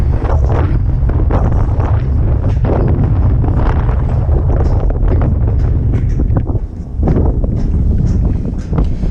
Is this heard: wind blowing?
yes